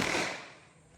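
A single gunshot from a Rock Island Armory M1911 GI .45 caliber pistol firing Armscor standard-grain ammunition outdoors, a sharp loud crack with a fading echo tail.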